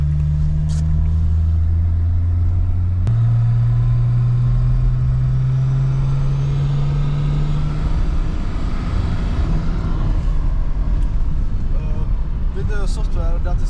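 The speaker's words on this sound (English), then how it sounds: "Turbo starts spooling from 2500 RPM" BMW E39 diesel engine with a big turbo under load, a steady loud drone whose pitch climbs as revs rise, with a growing whooshing hiss of turbo spool and a faint chirp near the end.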